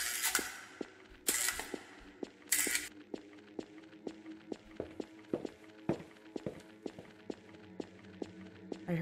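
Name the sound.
footsteps in a video game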